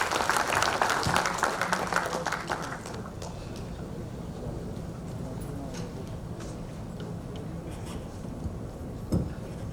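Audience applause greets Justice Adarsh Goel at a Haryana government event, loud clapping for about three seconds before it fades into a quieter murmuring hall with scattered noises.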